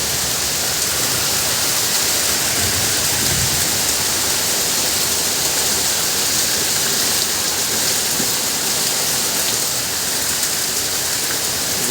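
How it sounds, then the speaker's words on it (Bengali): Heavy rain pours down steadily outdoors in a constant dense hiss, loud and unbroken, with no clear thunderclap standing out. "ভালোই বৃষ্টি হয়ে যাচ্ছে, আকাশ এখনো ডাকতেছে।"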